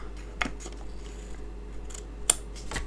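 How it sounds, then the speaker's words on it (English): Small scissors snip paper for card making, giving a few brief crisp cuts with quiet pauses between them, heard close up. "I'm going to use my little dinky scissors."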